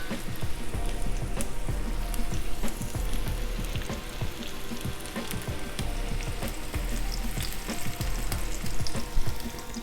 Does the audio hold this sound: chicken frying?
yes